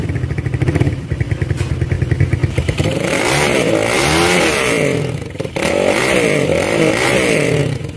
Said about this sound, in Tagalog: itong motorsiklo nito guys ay napakatindi rin ng tunog talaga nito